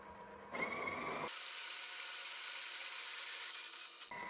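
Built-in grinder of a Breville Oracle Touch espresso machine grinding coffee beans, a steady close whirring grind that starts abruptly, holds for about three seconds and cuts off.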